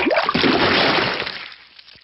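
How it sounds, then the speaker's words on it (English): In a Peppa Pig cartoon, muddy water is thrown over a car, one loud splashing whoosh that lasts about a second and then fades out. "Peppa has thrown the muddy water all over the car."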